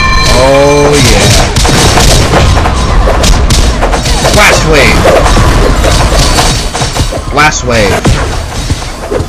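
Yang's Blast Wave ability in RWBY Grimm Eclipse, a loud stack of booming thuds and crashing impacts that fill the whole stretch, with a player talking over the game noise.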